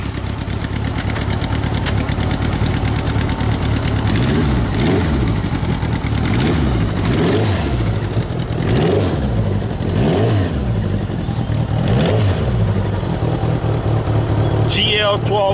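A Honda Goldwing motorcycle engine idles with a smooth, steady hum, rising several times into short revs before settling back. The engine is close and loud, and people speak over it.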